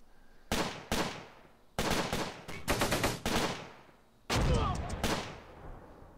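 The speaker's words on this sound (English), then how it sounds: "Whoa, arty coming in on my troops here." Gunfire and artillery barrage in the Close Combat war game, a series of loud sharp blasts and bursts of rapid fire with short gaps between them.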